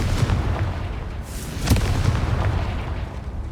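A Confringo fire spell explodes in Hogwarts Legacy, one sharp blast near the middle that rises over a steady rumbling game background.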